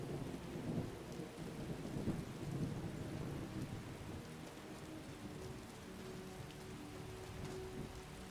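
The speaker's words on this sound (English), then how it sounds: "It's rainy weather though." Steady rain patters on surfaces through a Skyrim thunderstorm, with a low rumble of thunder early on, quiet and continuous with no voices.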